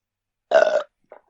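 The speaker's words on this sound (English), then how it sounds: "I stuttered and burped." One short, loud burp sounds alone after silence, followed by a faint brief vocal noise.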